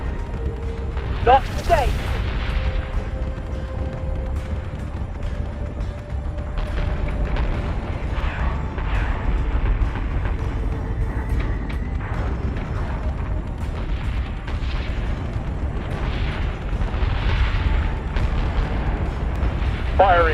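Warship guns fire during a space battle in Battlestar Galactica Deadlock, with heavy booms and rumbling blasts over a constant low engine drone. Radio-style voices give orders throughout.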